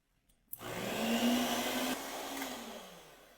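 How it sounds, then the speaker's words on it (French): An electric mixer whips cream together with a peach mixture, starting abruptly and settling into a steady whirring drone that runs close and moderately loud throughout. "Vous mélangez à nouveau."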